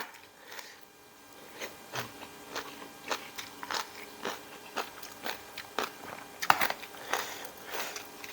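Crispy spicy squid salad eaten with rice noodles: sharp, close crunches and bites repeat in a steady chewing rhythm, loud against a quiet background with no talk.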